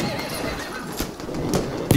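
A horse neighs in a war shooter video game amid gunfire and combat noise, short whinny bursts with hoof clatter close by, a voice talking underneath.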